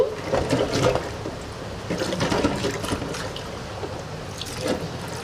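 Running cool water splashes and gurgles over boiled eggs with occasional clinks, close by and moderately loud, no talking.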